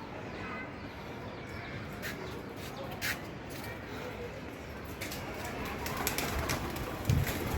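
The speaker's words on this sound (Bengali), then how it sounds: "কবুতর লালন পালন" Pigeons coo faintly and intermittently on a small rooftop garden, sitting low under steady background noise with a few brief louder bird calls near the end.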